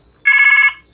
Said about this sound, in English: Toy smartphone.